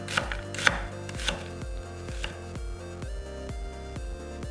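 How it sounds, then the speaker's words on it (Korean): A kitchen knife cuts a quarter onion into slightly thick strips on a cutting board, producing a steady run of crisp, evenly spaced chops, close and clear with no voices. "양파 4분의 1개는 살짝 굵게 채 썰어서 담았다."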